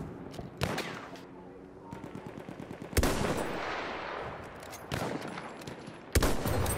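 Video game gunfire, loud bursts of rapid automatic shots with single sharp cracks between them, mixed with a voice talking over the action.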